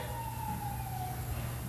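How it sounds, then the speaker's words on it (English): A faint, distant siren wails with a slowly falling tone over a low rumble of traffic. "we'll wait until the sirens go by"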